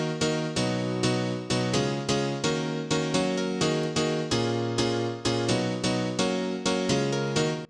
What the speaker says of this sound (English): we're gonna use the classic house piano sound from the Korg M1